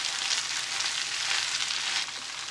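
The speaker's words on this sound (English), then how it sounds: "add the onions and mushrooms back into the fry pan. And just stir it through so that they're combined throughout" Onions and mushrooms stirred into fried beef in a frying pan for beef stroganoff, a steady close sizzle and fry that eases slightly near the end.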